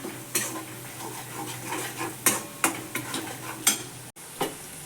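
Whole green garlic cooking in hot oil with chilli and salt, a low steady sizzle punctuated by several sharp spoon-against-pan clacks and scrapes, no voices.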